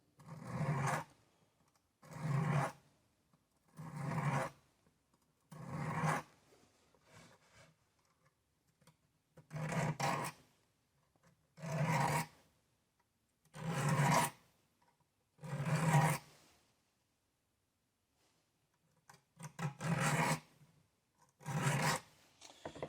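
A Schrade Imperial IMP16S pocket knife with soft steel is being stroked across a coarse grit sharpening stone. About ten short, separate rasping passes come in an even rhythm, close and clear, with quiet gaps between them.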